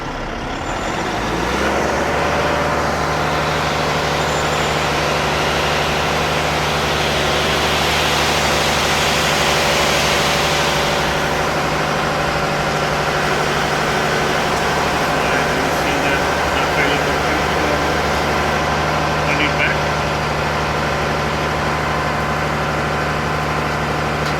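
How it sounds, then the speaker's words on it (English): A triple road train truck tipping iron ore at a Western Australian mine, its heavy diesel engine rumbling loud and steady at close range for the whole stretch, with a hissing rise partway through. "we put it on a gear and start rolling"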